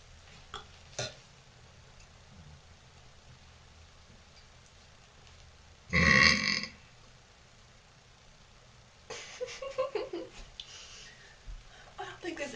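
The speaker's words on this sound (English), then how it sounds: "I don't think there's anything ladylike about my burps." A woman lets out one loud, drawn-out burp in the middle of a quiet stretch, followed later by a run of softer gulps and rustles against faint background noise.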